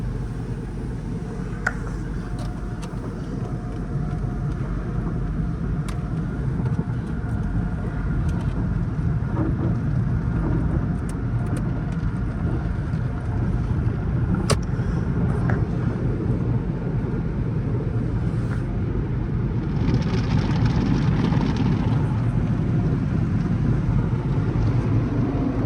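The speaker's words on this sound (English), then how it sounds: "Y'all know how satisfying the car wash be." Inside a Dodge Charger R/T rolling through an automatic car wash, a loud continuous wash of spraying water and machinery rumble fills the cabin, with brushes and jets swelling toward the end.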